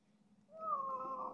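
A male cat, a tomcat being tended after an injury, gives a single drawn-out meow, close and fairly loud against a quiet background.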